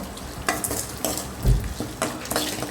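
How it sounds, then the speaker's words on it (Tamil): Chana dal, onion and dried red chili stir-fried in a home kitchen pan, with a soft sizzle under repeated scraping strokes of a spoon against the metal. "கடலப்பருப்பு போட்டு வெங்காயம் வரமிளகாய்"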